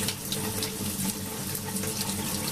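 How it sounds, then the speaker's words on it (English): Water sloshing and pouring steadily from a container of soaking wheat kernels into a sink, a continuous close splashing stream with no talking. "I'm going to pour that water off."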